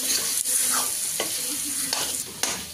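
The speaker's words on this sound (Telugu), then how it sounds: "ఇలా చక్కగా ఫిష్ కూడా ఫ్రై అయ్యేదాకా కలుపుతుండాలి" Fish pieces and onions fry and get stirred in a pan, a constant sizzle broken by several sharp spatula scrapes at irregular intervals, close and unaccompanied by speech.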